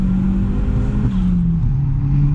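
An Audi S3 with a 1.8-litre turbo engine revs hard and steadily, its low drone climbing slightly in pitch as it accelerates, loud and close throughout.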